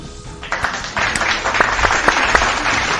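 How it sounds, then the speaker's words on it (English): A round of applause from a group, a dense burst of clapping that starts abruptly and stays steady and loud with sharp individual claps standing out. "let's give everyone a round of applause in the chat"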